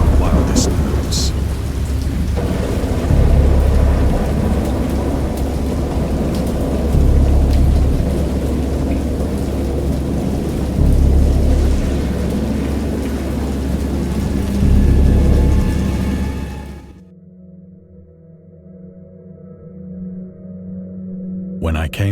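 Heavy video game rain pours down under rolling thunder for most of the stretch, loud and continuous, then cuts off abruptly to a quieter, low rumbling tail.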